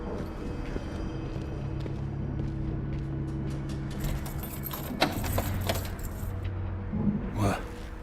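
Keys jangle in Dishonored 2, a metallic clinking that rises near the end over a low game ambience and rumble, with brief clatter and footstep-like knocks.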